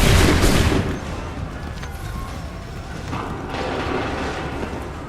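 A musket volley in Assassin's Creed III bursts out loudly at the start, then fades into a rough, noisy battlefield rumble with scattered faint mechanical clatter.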